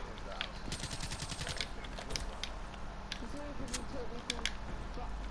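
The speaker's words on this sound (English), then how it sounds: "You saw me shooting him." Bursts of gunfire from a video game shooter crackle in quick rapid runs alongside mechanical clicks, moderately loud, with voices talking over parts of it.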